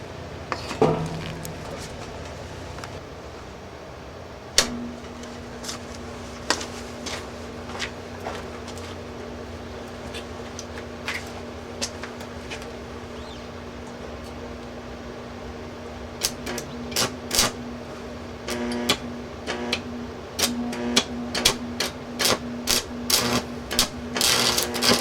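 Arc welding with a Hobart 180A welder: a continuous crackling sizzle with a steady electrical hum underneath. Irregular pops and snaps run throughout and grow denser and louder toward the end.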